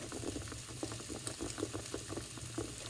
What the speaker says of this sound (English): So once the rice is boiling